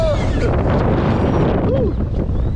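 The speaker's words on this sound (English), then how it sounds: "Hurricane wind, guys. Hurricane wind." Strong hurricane-force wind roaring steadily across the microphone of a DJI Avata drone in flight, a loud continuous buffeting rush from start to end with no pauses.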